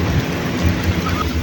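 Steady rain falls in a Punjabi village, a dense, loud, continuous wash of patter on surfaces with a low rumble underneath, heard without talk.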